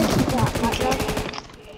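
Rapid automatic gunfire in PUBG Mobile, a fast regular stream of loud close shots lasting over a second before cutting off, with voices chattering over it.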